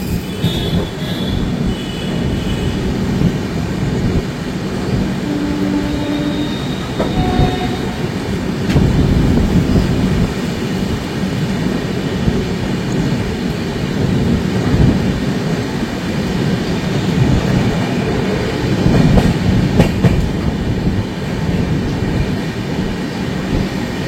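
The Guwahati Garib Rath Express running on a line beside a road after Kishanganj: a steady low rumble of wheels and carriages heard from onboard, with rhythmic rail clatter and occasional louder jolts.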